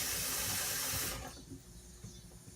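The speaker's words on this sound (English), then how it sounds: "Here we got the faucet to wash your hands, brush your teeth. It's working perfect." Water runs from a faucet in an RV bathroom sink as a steady close hiss that cuts off after about a second, leaving quieter room noise.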